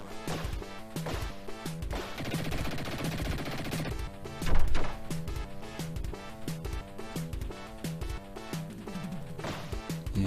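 Machine gun fire in the Mega Drive game Dick Tracy: rapid chiptune shots and crashing impacts rattle steadily over looping game music, with one louder burst partway through.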